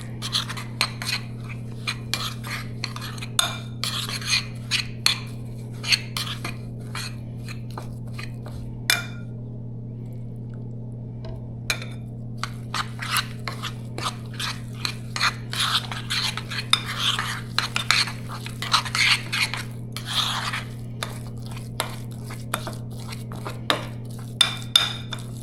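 Cornbread-style batter with onion being stirred in a bowl, a spoon scraping and clinking against the sides in steady, busy rhythm, with a brief pause partway through and a constant low hum underneath.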